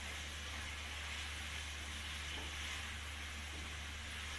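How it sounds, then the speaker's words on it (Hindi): Chopped onions frying in a pan on a stovetop while cooking a chicken lasagna, a faint steady sizzle with a constant low hum underneath and no speech. "अभी हम इसमें प्याज डालने वाले हैं।"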